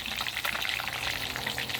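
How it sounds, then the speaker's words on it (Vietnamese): Fish frying in oil in a pot, a dense steady crackling sizzle with bursts of spattering that runs continuously and fairly loud throughout, with no talk over it. "Nhà hàng chiên cá đứng mà mình chiên cá nằm."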